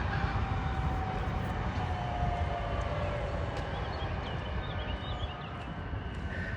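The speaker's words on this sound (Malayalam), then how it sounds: "അതാ ഒരു ട്രെയിൻ ഇങ്ങോട്ടേക്കും വരുന്നു." A metro train approaching on an elevated city line, a steady broadband rumble and rail roar that holds loud throughout, with faint high squeals of wheels on track near the end.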